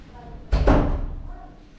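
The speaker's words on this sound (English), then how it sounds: "Let me close the door because there are a couple of young kids here and I do not want to wake them up." A door closes with a solid double thud near the listener indoors, followed by a brief fading rattle, with a voice faintly audible around it.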